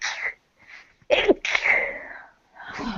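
A single loud, close sneeze with a sharp burst, set between quieter breaths and small vocal sounds.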